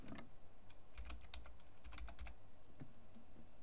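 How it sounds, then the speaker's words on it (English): Quick, light clicks of typing on a computer keyboard, a steady irregular patter of keystrokes heard close up and alone, with brief pauses between bursts. "all you need to do is type the name associated with this account"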